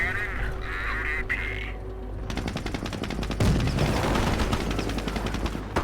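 Tank main cannon fires in the World War II strategy game Company of Heroes, one heavy blast landing mid-clip amid a dense, continuous clatter of battle noise.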